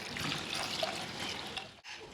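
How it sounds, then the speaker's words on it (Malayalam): Water poured into a pressure cooker with drumsticks, tomato, dal and turmeric for rasam, a steady close trickling pour that cuts off abruptly near the end. "വെള്ളം ഒഴിക്കാം."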